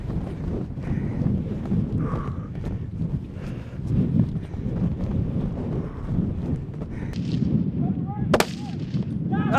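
Gunshots ring out outdoors, fired at a running caribou bull during a hunt. Heavy wind buffets the microphone, a louder crack stands out near the end, and faint thumping movement runs underneath.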